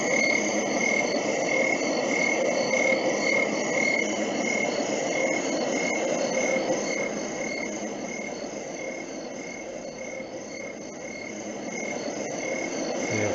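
Summer-night crickets from a white noise machine: a steady, dense chirping and trilling insect chorus with frog-like background, continuous and fairly loud throughout, easing slightly in level midway and rising again.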